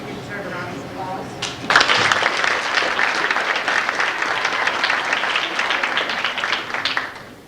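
An audience at a school sports awards ceremony gives this year's cheerleaders a round of applause, dense clapping starting abruptly and holding loud and steady for several seconds before tapering off at the end.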